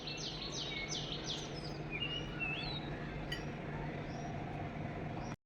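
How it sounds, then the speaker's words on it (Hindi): Birds chirp in a garden, a few thin high calls and twitters over a steady hiss of background ambience, fairly faint and with no talking. "देखो आवाज़ आ रहा है ना चिड़ियों का"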